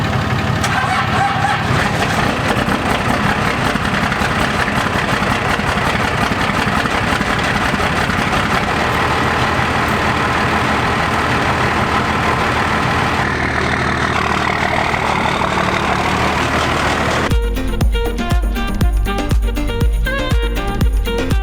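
A truck engine, left a week with the dash lights on, cranks and catches, then settles into a loud, steady idle. Near the end the engine sound gives way to a different, busier sound.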